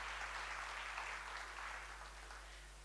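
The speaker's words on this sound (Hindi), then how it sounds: "इस बात पे तो महिलाओं को जोरदार ताली बजानी चाहिए" Applause from the audience at a Rotary District 3030 conference, a steady broad wash of clapping that holds throughout and eases slightly toward the end, with no speech on top.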